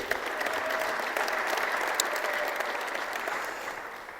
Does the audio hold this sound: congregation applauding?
yes